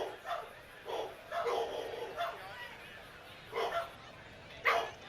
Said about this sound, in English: Dogs are going insane.